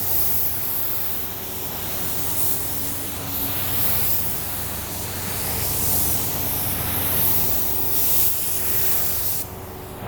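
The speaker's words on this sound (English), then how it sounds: "So let's go ahead, let's get geared up, spray this," Spray gun laying clear coat onto a car panel: a loud, continuous broadband hiss of atomised spray, close and steady with slight swells, ending in a brief sharper burst.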